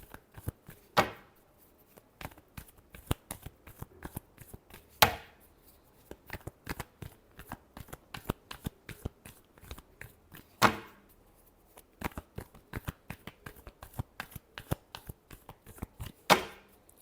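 Tarot cards shuffled by hand in a steady run of crisp riffling taps and slaps, with a few louder sharp strikes standing out every few seconds, close and alone without voices.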